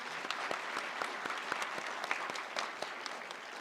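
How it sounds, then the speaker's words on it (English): A small audience at a spring 2022 MPH hooding ceremony gives a steady round of applause, with distinct individual claps close by, continuing evenly with no voices. "we'll still give her a round of applause"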